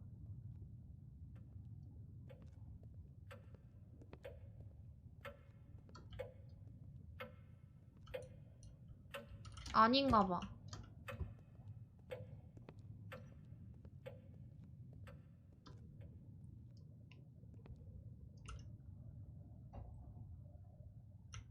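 A clock in a horror video game ticks steadily and faintly over a low ambient hum, with a short spoken phrase partway through.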